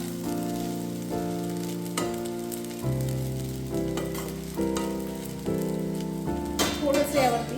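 Sabudana khichdi cooks in a pan with a continuous sizzle and occasional stirring scrapes, under steady tonal music, ending with a brief burst of spattering.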